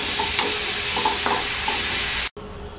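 Cauliflower pieces sizzle steadily in hot oil with a constant crackling hiss and a few light pops, cut off abruptly just before the end.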